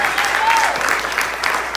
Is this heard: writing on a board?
no